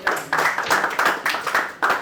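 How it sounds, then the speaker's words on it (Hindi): Students in a JEE maths class clap for a classmate named Pratik, a brief burst of several sharp rounds of applause from a small group, close and fairly loud, with gaps between the rounds. "ये ताली बजा दो प्रतीक के लिए।"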